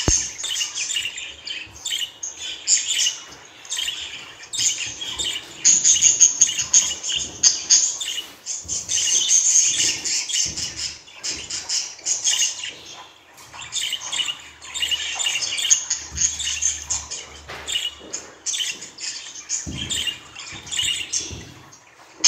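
Female budgerigar chirping and warbling steadily for the whole stretch, a busy, bright run of squawks, tweets and chattering song close to the microphone, with no voices.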